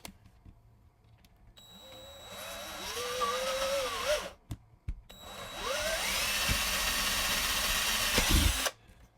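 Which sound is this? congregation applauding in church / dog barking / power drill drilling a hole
power drill drilling a hole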